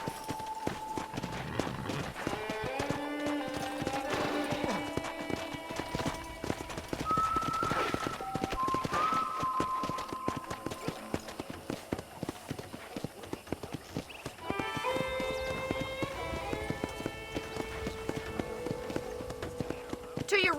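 Horse hooves clip-clop steadily during a ride in a Western-themed video game, mixed with background music, with a few voices talking over them.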